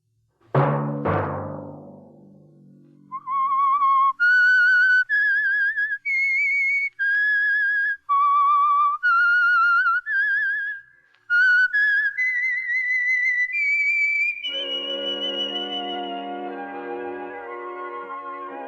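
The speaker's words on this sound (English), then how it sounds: "Let that whistle be your signal" A lone whistled melody, the signature tune of the 1951 radio drama The Whistler, clear and bright, a sequence of sustained notes with short breaks, ending in a held, fuller-toned chord from instruments.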